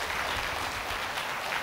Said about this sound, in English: And if we could give them a round of applause, I'd be grateful.